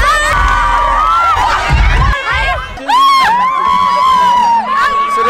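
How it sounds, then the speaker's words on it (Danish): A large audience at a live show in Esbjerg shouts and cheers loudly and close, high excited voices rising in waves and overlapping throughout. "Der er nogen, der råber Albert"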